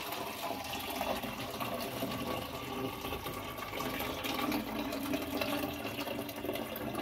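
Water being poured and swirled in emptied plastic bottles, a steady close sloshing and gushing that runs continuously without pause.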